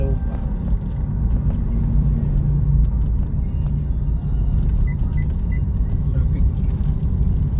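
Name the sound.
road traffic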